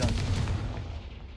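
Confringo fire spell blast in the Hogwarts Legacy video game, a single deep booming burst that rolls away and fades over about a second, moderately quiet.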